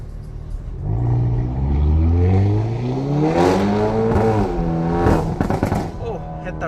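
A stage 2 tuned Hyundai i30N hatchback, about 320 hp, revs hard through the gears to the redline on the road, the engine note climbing loudly with shifts and crackles near the end while a driver talks over it.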